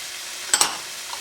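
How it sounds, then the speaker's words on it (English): Onions and peppers hit a hot pan over medium-high heat, giving two quick, close sizzling bursts as they are stirred, then a soft background hiss. "We're going to saute these until they're soft and translucent."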